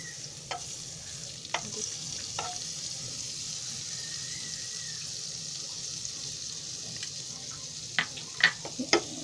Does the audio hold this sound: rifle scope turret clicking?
no